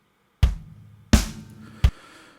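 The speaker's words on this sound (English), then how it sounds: "Again, not very hard hitting snare." Three separate snare drum hits, punchy but not especially hard, the second ringing longest, with short gaps between them.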